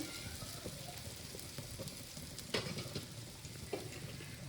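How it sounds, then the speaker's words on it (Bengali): Spices, turmeric, cumin and coriander powder, and fish heads sizzling and frying in a pan, a steady crackling hiss with a few sharper pops of stirring, close and alone without talk. "ব্যাস, এবার একটু কষে নিই।"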